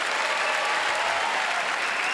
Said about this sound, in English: Round of applause for Naomi.